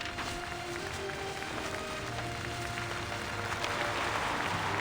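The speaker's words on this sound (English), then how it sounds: "Applause comes from the main hall, from the balconies, from beneath the dome, and from beyond the unreachable sky" Applause fills a hall in the video game Reverse: 1999, a dense, steady patter of many clapping hands heard faintly and evenly throughout, with low music-like tones beneath it.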